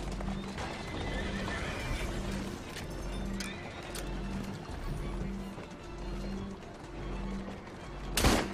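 Hooves clip-clop in a fast galloping rhythm as a horse neighs and whinnies in the video game Assassin's Creed Syndicate, with a voice briefly audible and a sharp burst near the end.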